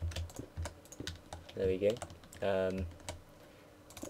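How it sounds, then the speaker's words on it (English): Quick bursts of computer mouse clicking, left and right buttons in turn, during a Dwarf City game session, sharp and close, mixed with key-like taps and a short spoken remark. "Show off my amazing left-right clicking skill here."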